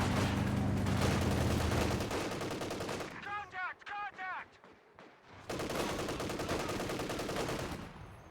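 A .50 cal machine gun fires in a strategy video game. Long loud stretches of rapid, continuous gunfire open and close the stretch, and a short lull in the middle carries a speaking voice and sparser shots.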